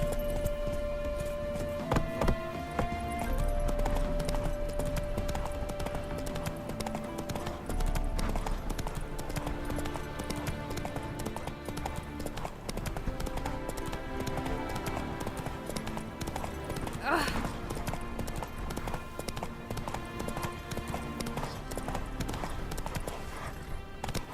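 Hooves of Roach, a horse in The Witcher 3: Wild Hunt, clip-clopping steadily and close for the whole stretch, with game music and ambient sounds beneath and a brief whinny-like tone partway through.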